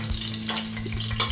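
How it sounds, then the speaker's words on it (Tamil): Cinnamon, cloves and cardamom fry in hot oil inside a pressure cooker, giving a steady close sizzle with light scraping stirs and a few brief louder spatters, no voices. "குக்கரில் எண்ணெய் ஊற்றி எண்ணெய் காஞ்சதும் பட்டை, கிராம்பு, ஏலக்காய் மூணையும் போட்டு பொரிய விடணும்"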